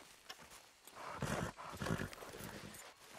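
A horse in Red Dead Redemption 2 makes soft, faint hoof clops and snorting movement sounds in a short quiet burst, with no talk over it.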